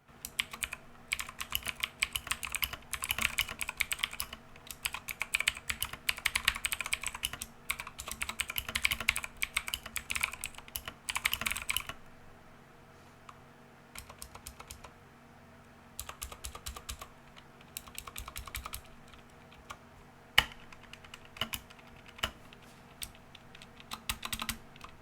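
Dense, rapid typing clatters on a Redragon K552 mechanical keyboard with clicky blue switches, close and crisp, then thins to sparser bursts of keystrokes with short pauses in the second half.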